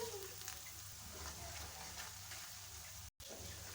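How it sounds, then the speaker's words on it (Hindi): Spices frying in oil in a pan for Lahori chickpeas, a soft continuous sizzle with faint stirring, quiet and close, broken by a brief dropout near the end. "ये तमाम मसाले हम इसमें ऐड कर देंगे और इसको हम भून लेंगे"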